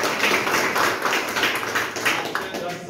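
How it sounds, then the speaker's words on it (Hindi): Audience at an induction meeting clapping on request, a dense, moderately distant patter of applause rising and falling over a few seconds. "तालियां बजाइए"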